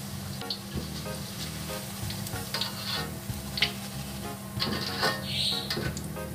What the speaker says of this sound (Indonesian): Ini tidak lama ya menggorengnya, mengingat kentangnya itu sudah matang.